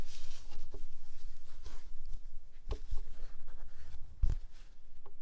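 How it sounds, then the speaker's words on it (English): Scissors cut off a strip of excess fabric while sewing a tote bag from jelly roll strips, giving close, soft snipping and rustling with a few sharper clicks. "So I'm going to cut that little strip off."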